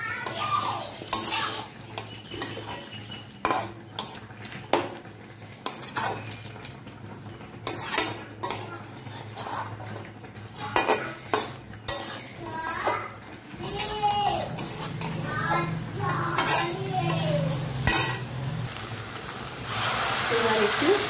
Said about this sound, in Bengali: মশলাতে মাছগুলো এইভাবে ভেজে নিতে হবে